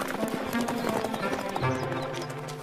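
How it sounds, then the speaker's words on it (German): Cartoon wild horse hooves clip-clopping in a quick running rhythm over a busy musical score, fairly close and steady throughout. "Ein Wildpferd."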